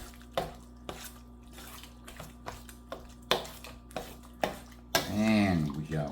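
A spoon scrapes and taps a dish as chopped turkey is stirred into duck dressing made with cream of chicken soup, giving a series of evenly spaced clinks before a voice begins speaking.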